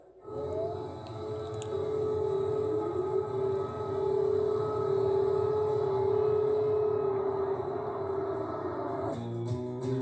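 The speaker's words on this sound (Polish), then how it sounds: "pokazując syreny przeciwlotnicze w Kijowie" Air raid sirens in Kyiv wail in a long sustained rising-and-holding tone that stays loud and steady for most of the stretch before cutting off near the end, with no talk over it.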